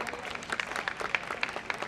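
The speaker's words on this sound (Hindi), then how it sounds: "एक बार ताली हो जानी चाहिए इन बच्चों के लिए" A crowd at a Sindhi cultural fair claps for children who have just performed, a fairly faint, distant patter of many hands, steady with a few sharper claps rising above it.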